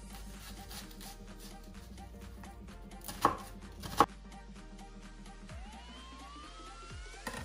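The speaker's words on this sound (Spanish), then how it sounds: "Partimos la cebollita." Knife chopping onion on a board for a salad, a quick string of soft faint cuts with two sharper louder knocks midway, under quiet kitchen background hum and no talk.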